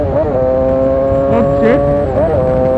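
A motorcycle engine revs up and down through gear shifts on a bike ridden in Jamaica, a loud, close, buzzing tone that rises and dips in pitch with each shift.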